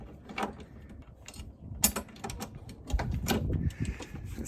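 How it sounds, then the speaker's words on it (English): A bolt is screwed onto a Jeep JL rear bumper fascia, with quiet, close ratcheting clicks and small metallic scrapes coming in irregular bursts. "Line it up to the hole and screw it on."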